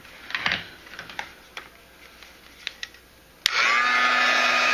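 A hair dryer drying paint on a small wood-grain craft project switches on and blows steadily and loudly after a few light clicks and taps.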